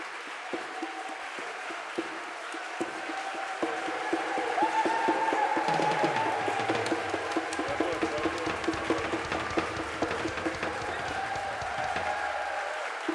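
A church congregation at Sunday mass applauds with sustained clapping from many hands that builds and fills the room for over ten seconds, with some voices mixed in.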